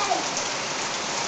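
A monsoon rain shower, dense and steady hiss of rain falling on surfaces, close and even throughout with no voices.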